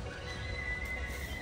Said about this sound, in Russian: Я вам покажу вот так вот сзади лошадь.